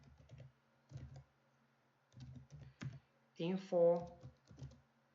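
Keystrokes on a computer keyboard come in short clustered bursts while code is typed, with someone talking over the later part of the stretch.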